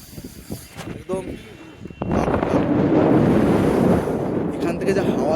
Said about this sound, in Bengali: প্রচুর হাওয়া দিচ্ছে এখন এখানে